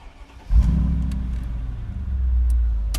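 A Mercedes-Benz G55 AMG engine cranks and fires up with a sudden loud roar at about half a second, then settles into a deep, rumbling idle that swells slightly near the end.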